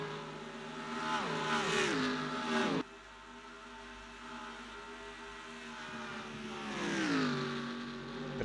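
Race cars lapping in Craftsman Cup qualifying at Charlotte. Two loud engine passes sweep by with the pitch dropping as each car goes past, over a steady lower engine drone in between.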